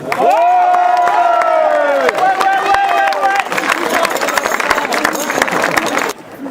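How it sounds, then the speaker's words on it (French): Wedding guests applaud and cheer loudly at a celebration in France, with sustained cheering voices and shouts over steady clapping that fades out near the end. "je vous demande donc de les applaudir vivement"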